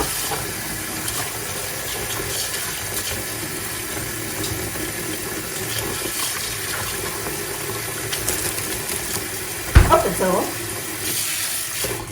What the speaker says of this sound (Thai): เดี๋ยวเราล้างอีกทีนึงนะคะทุกคน แช่เบกกิ้งโซดาไว้ก่อน